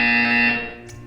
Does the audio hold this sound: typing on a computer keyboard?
no